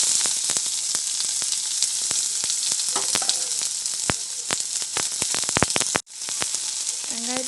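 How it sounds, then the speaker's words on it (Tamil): Long-sliced onions hit hot oil with popped mustard seeds for a brinjal fry, giving a loud, dense, steady sizzle punctuated by spatula clicks, a brief pause, then a short voice. "இப்போ நம்ம நீளமாக கட் பண்ணி வச்சுருக்க வெங்காயத்தை சேர்த்துக்கலாம்"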